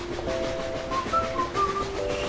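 Train running on rails in a children's cartoon train game, a steady rolling rumble with rhythmic clatter and short musical tones over it, continuous and moderately loud with no talking.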